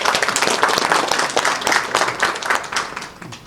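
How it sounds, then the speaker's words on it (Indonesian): An audience at a formal installation ceremony claps steadily, a dense burst of applause that holds strong and then begins to fade toward the end. "tepuk tangan."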